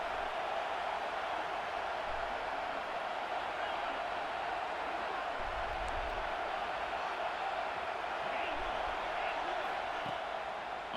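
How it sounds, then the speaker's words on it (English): Fired-up stadium crowd early in a game in EA Sports College Football 26, a steady broad roar of cheering that holds at moderate level throughout, with a faint low thump or two underneath. "It's early, but this crowd is fired up. Listen to this noise here."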